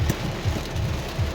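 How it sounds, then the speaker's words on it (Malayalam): Heavy rain pours down during a drive, a steady broadband hiss of drops drumming on surfaces over a low vehicle rumble, continuous and fairly close. "കുറച്ച് ദൂരം അങ്ങോട്ട് പോയപ്പോഴത്തേന് ഇടിച്ചു കുത്തി മഴയായി."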